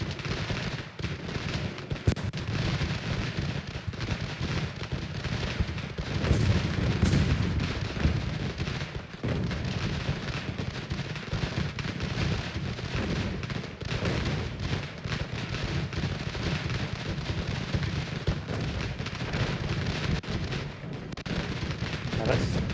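Cannon and artillery fire boom repeatedly across a battle in Ultimate General: American Revolution, with dense overlapping shots over constant battlefield rumble and someone talking throughout.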